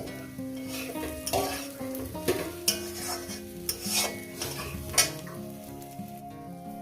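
Small mourala fish fry with onions in a pan, sizzling steadily. Close, intermittent scraping and clinks from stirring break through the sizzle.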